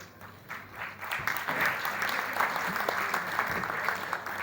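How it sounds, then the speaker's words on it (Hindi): An auditorium audience at the Arts Council in Karachi breaks into applause that swells after a second and holds as a dense, steady patter for several seconds. "उनके लिए तालियां भरपूर बजाइएगा नजर हुसैन साहब के लिए"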